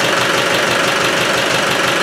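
A Spanish 110 engine runs steadily just after start-up, a loud, dense, continuous mechanical roar with a knocking texture, close by and alone.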